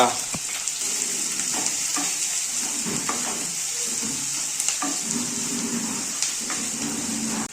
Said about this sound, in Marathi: पहिला तेल टाकलंय कांदा